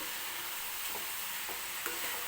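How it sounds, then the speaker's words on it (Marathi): Coconut and jaggery modak filling stirred in a pan, with faint soft scraping strokes over a steady low sizzle, a few gentle stirs spaced apart. "हे सारण जे आहे ते असंच परतून घेणार आहे मी खाली लागू द्यायचं नाही कंटिन्यू हलवत राहायचं आहे"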